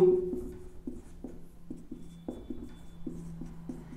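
Chalk or a marker taps and scratches across a board in short, irregular strokes as a matrix is written out, close and fairly quiet, with faint room noise behind.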